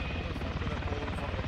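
Helicopter in the Arma 3 video game: a steady, dense rotor and engine drone fills the brief moment, with no other sound standing out.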